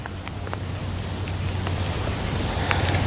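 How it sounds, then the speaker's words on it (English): Light rain falls steadily in Woldenberg Park in New Orleans, a constant outdoor hiss with scattered drop ticks over a low, steady hum, and no voices. "Now we've got light rain coming down here in Waldenburg Park."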